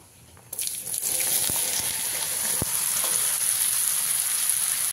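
Chopped snake gourd drops into hot oil with panch phoron and dried chilli, setting off a sudden loud sizzle that settles into a steady, close crackling hiss, with a few sharp ticks of a spatula.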